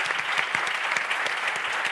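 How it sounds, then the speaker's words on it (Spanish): Steady applause from a crowd, dense continuous clapping at a fairly loud level throughout, with no voices standing out. "esto merece un aplauso"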